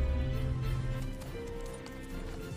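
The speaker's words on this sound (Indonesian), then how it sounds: "Tong De dikejar-kejar oleh sekelompok orang berkuda" Horses gallop as a group of riders gives chase in a film scene, a short burst of thudding hoofbeats beneath a droning musical score.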